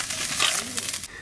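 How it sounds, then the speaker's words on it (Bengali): Fish frying in a wok gives a short burst of broadband sizzling and stirring, close and fairly loud, with some background voice mixed in. "মাছ ভাজা হয়ে গেছে"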